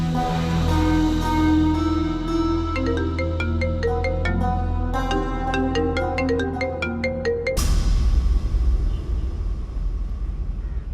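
A phone ringtone plays a bright melodic electronic tune of repeated notes for several seconds, then gives way to a rumbling, noisy background.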